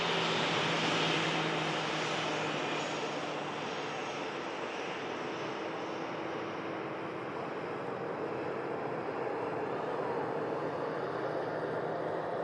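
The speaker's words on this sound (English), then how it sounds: "Next departure under the Ryanair 73 for Londonderry" A Ryanair Boeing 737 departs for Londonderry with a steady, distant engine rumble and broad rushing noise that stays fairly even and slowly eases, with no talking.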